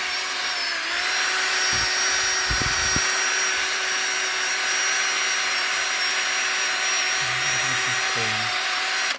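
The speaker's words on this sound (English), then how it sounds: "and then we'll hoover that out" A vacuum cleaner hoovers debris out of the engine bay of a Jaguar XFS 3.0, running as a steady, loud, continuous whine with a few brief knocks and bumps along the way.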